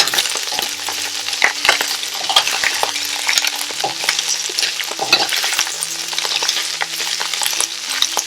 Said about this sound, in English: So I'm just going to stir fry it on high heat.